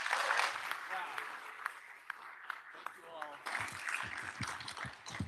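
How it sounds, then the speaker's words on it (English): Applause from a conference audience for the panelists, a steady wash of clapping with a voice talking over it, turning into sparser individual claps toward the end. "Can we get a round of applause for our panelists,"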